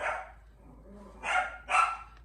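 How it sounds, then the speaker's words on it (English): A dog barks while playing with another dog at home, one short yelp followed by two sharp barks close by with quiet gaps between, and no talk. "And he's playing with my other dog, Molly"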